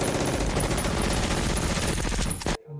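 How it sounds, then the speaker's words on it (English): Dense battlefield gunfire from the war film Saving Private Ryan, a loud, continuous rattle of machine-gun bursts and shots, close and unbroken before it cuts off abruptly. "Guns being shot"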